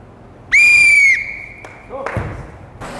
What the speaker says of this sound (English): Starts on my whistle, ends on my whistle.